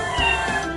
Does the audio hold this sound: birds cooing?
no